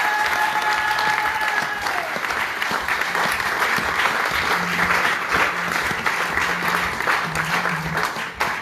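Church congregation applauding in a steady, dense wash of clapping that runs for several seconds, loud and close, with faint tones and voices underneath near the start and later on.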